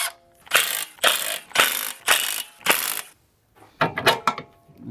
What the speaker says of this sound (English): Go ahead and loosen up the ball joint nuts, and with a 16 millimeter